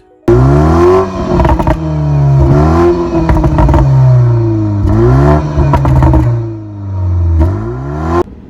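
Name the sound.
BMW 3 Series exhaust revving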